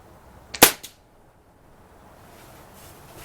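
Gamo Swarm .22 air rifle with a new piston seal fires once at a target, a single sharp close crack with a quick follow-up thump, then quiet outdoor hiss.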